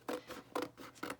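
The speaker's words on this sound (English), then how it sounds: "I'm going to take my scissors, or you could tear, and I'm going to cut 3 of the" Scissors make three quick, evenly spaced snips while cutting paper boxes for a pocket journal, crisp and close in a quiet room.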